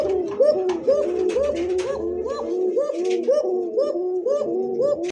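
Pigeons at a pigeon market, including fancy breeds such as Lahori and satin, coo continuously in overlapping, rhythmic rolling calls, close and fairly loud, with a low rumble of background noise underneath.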